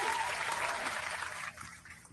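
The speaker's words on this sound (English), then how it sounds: "Let's give them a round of applause, man." A round of applause from an audience, a fairly quiet, dense wash of clapping that thins out toward the end.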